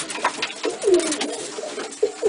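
Racing pigeons coo in a loft, several soft throaty calls rising and falling at close range over a quiet background.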